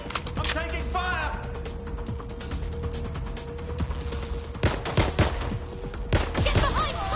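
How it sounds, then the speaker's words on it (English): Rapid gunfire in the video game Watch Dogs: Legion, with dense clattering bursts and mechanical clicks under a steady game soundscape, close and loud, with sharper volleys near the end. "I'm taking fire!"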